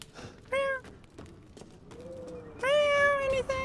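A cat meows in a video game: two short, clear meows, one brief and one longer and drawn out, with quiet background sounds in between.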